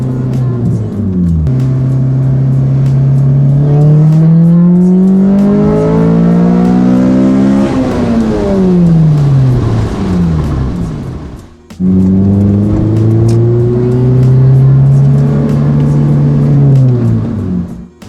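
Honda Civic Si, 8th generation, fitted with a K-Tuned cold air intake, revving loudly up through its range twice with a rising howl, a drop back, a short pause, then another climb and hold, close and with no talk.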